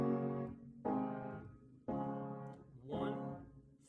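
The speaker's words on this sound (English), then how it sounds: "We have a 1, 4, 5, 1 chord progression" A piano plays a simple 1-4-5-1 chord progression as four sustained chords in turn. Each chord rings and decays before the next, with the final one swelling slightly brighter.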